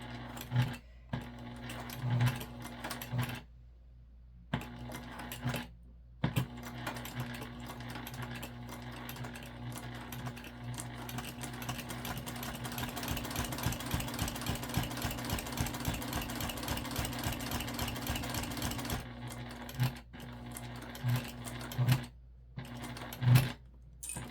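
A sewing machine top-stitches across the top of a crossbody bag pocket, stitching in a steady, close mechanical whir for several seconds, with short bursts and pauses at the start and end.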